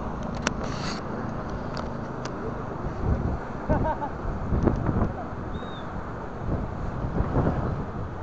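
Strong wind on a seaside boulevard buffets the microphone in a loud, rumbling roar with gusty surges throughout, and a few faint background sounds poke through.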